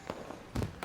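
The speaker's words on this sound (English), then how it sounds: "Oh, I love fireworks." Fireworks burst in a couple of deep, booming thumps less than a second apart, loud and close with a rumbling tail after each blast.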